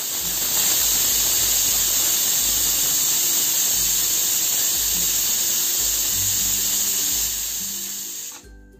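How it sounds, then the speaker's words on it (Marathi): Pressure cooker releasing steam while cooking moong dal khichdi, a loud, steady high hiss that holds for about eight seconds, then cuts off abruptly. "आपण इथे कुकरला 4 शिट्ट्या करून घेतल्यात।"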